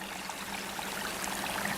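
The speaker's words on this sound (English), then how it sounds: "That's where the water steps down in a series of pools" A spring creek on a ranch stepping down through a series of drop pools, a steady rushing trickle of flowing water, close and continuous with no voices.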